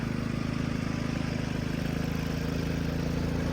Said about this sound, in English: So I got the generator out.